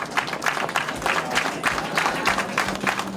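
Hotel staff applaud the Spain national football team on its return to the team hotel, a dense, steady patter of many hands clapping together throughout, close and continuous.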